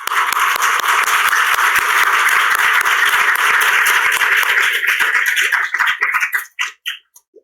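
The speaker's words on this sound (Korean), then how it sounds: "우리 박수 한번 쳐주십시오." A church congregation claps together in sustained, dense applause that stays loud for several seconds, then thins out into a few scattered final claps.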